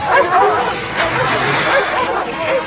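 Dogs bark excitedly while chasing a leopard amid a busy, noisy scene, yips and barks overlapping in quick bursts throughout.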